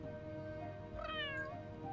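A cat in The Sims 3 gives one clear, drawn-out meow midway, close and distinct over a steady tonal game-music background.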